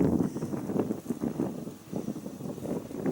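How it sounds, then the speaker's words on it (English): Gusty wind buffets and rumbles continuously, rising and falling in low-pitched bursts with no voices. "It's still very windy"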